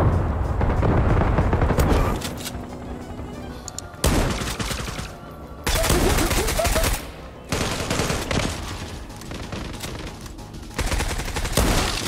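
Rapid bursts of gunfire and explosive booms from the online shooter game Zula Europe, loud and dense in the opening seconds, then repeated volleys broken by brief pauses.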